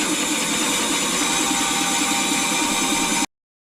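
A power tool cuts through an aluminum bracket in one continuous harsh, buzzing whine that stays loud and even before stopping abruptly.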